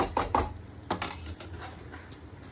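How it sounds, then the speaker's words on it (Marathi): A spoon stirs peanuts through salt in a pan while they roast, making a run of quick, gritty scrapes and rattles, close and moderately loud, with no talk. "इथे आपण ह्या चमच्याने हलवू जेणेकरून पटापट हलवायला होईल"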